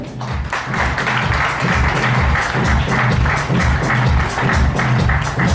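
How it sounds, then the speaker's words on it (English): A crowd at a 2013 app award ceremony applauds the runner-up, the loud clapping falling into a steady rhythmic beat that keeps going without a break. "I think your applause needs to be a little more louder."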